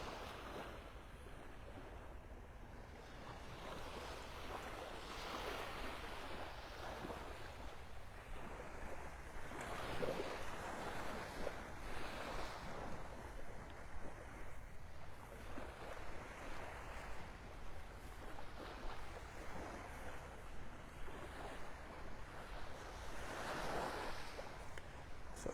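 Gulf beach surf at Delnor-Wiggins in North Naples on a partly cloudy morning, waves washing in and receding in a continuous broad roar, with wind buffeting the microphone throughout.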